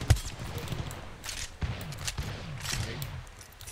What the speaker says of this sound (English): Hey, he's shooting you.